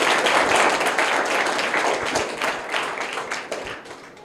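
Students at a private school break into loud, sustained clapping for a prize winner, many hands rattling together in a dense, close burst that eases slightly toward the end.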